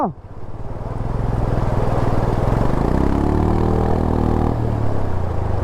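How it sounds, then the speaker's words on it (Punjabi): A motorcycle engine roars loudly and steadily while stuck in a high-water river crossing on the road to Chandratal Lake in Spiti, revving up with a rising whine midway, close and dominant throughout. "ਬਾਈ ਦਾ ਮੋਟਰਸਾਈਕਲ ਫਸ ਗਿਆ ਬਹੁਤ ਭੈੜਾ"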